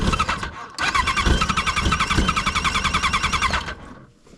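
A Yamaha RX1 snowmobile engine cold-starts after months parked, catching after a short crank and settling into a loud, steady, rapidly pulsing idle at close range before cutting off.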